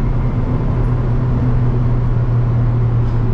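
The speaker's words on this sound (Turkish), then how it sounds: "4 silindirli motorun sesi içeri inceden geliyor." Fiat Fiorino 1.4 Fire four-cylinder engine heard from inside the cabin while driving at speed, a steady low drone with road rumble, moderately loud and continuous, no talking.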